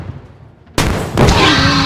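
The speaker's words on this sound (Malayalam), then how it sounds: "നമുക്കപ്പോൾ ഈ വലിയ റോക്കറ്റ് ലോഞ്ചർ വെച്ച് റോക്കറ്റുകൾ ലോഞ്ച് ചെയ്യാം." A large rocket launcher fires at a dinosaur in the video game Indian Bike Driving 3D, giving two loud, abrupt blasts in quick succession that roar on after sudden silence.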